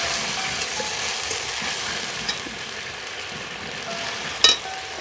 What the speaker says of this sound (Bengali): মশলাটা আমি এবার ভালো করে কষিয়ে নেব